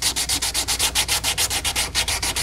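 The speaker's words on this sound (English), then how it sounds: "I want to get on it with a piece of dry sandpaper, roughen it up as much as possible" Dry sandpaper is rubbed by hand over a motorcycle part being repaired after crash damage, giving a close, rhythmic scratching of about fifteen quick even strokes.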